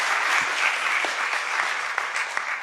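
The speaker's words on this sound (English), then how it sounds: "Give him one more round of applause" Sustained applause from a conference audience for a plenary speaker, dense even clapping filling the hall at steady loudness, with a few sharper individual claps standing out near the end.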